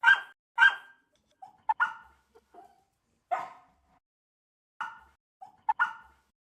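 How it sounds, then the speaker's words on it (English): A dog barks in short, sharp, dry yelps, about eight of them in irregular bursts with silence between, taken as a sample to serve as the snare in a dubstep track. "I'm thinking we could have a dog bark as a snare."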